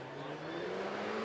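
Alpine sports car with a 1.8 litre turbo engine, 296 horsepower, accelerating on a race track; a steady, loud engine drone holds throughout the brief moment without a break.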